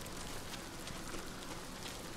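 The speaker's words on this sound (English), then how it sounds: "Rain's actually nice." Faint, steady rain falling at an angle in Ghost of Tsushima, an even hiss of drops on surfaces with no breaks or other sounds over a short stretch.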